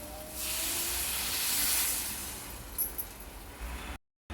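A loud sizzling hiss bursts up as water hits a hot pan of potato, drumstick and dried prawn curry, swells for a couple of seconds, then dies down to a quieter crackle.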